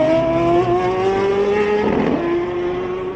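A high-revving racing motorcycle engine holds a steady strained pitch on its rev limiter during a pit stop at the Isle of Man TT, loud and close, with a rough burst midway.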